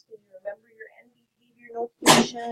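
A single sharp sneeze bursts out in a classroom right after a teacher speaks, loud and close, with talk continuing around it.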